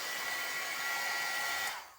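A hair dryer blows steadily on freshly spray-painted work, a loud continuous whooshing whine close by that runs for about two seconds before cutting off and winding down.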